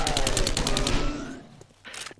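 Rapid bursts of automatic gunfire in the zombie survival game 7 Days to Die, a dense, loud stream of shots for about a second before it cuts off, followed by fainter clatter.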